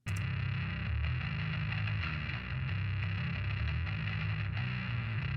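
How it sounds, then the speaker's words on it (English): Distorted bass guitar track from an unmixed metal song, a dense continuous low growl with steady sustained notes, played alone with no voices. "What does the bass sound like?"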